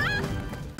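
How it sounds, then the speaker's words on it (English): A cartoon chicken from PAW Patrol gives a short, bright squawking cluck that slides in pitch, then trails off into a brief noisy scuffle. "Mayor Goodway's chicken is Chickaletta."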